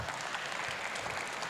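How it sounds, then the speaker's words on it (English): Audience applause for a speaker after a talk on the machine learning behind Google Translate: a short, steady burst of many hands clapping at moderate level, with no voices. "let's once again thank and give a round of applause to Mike."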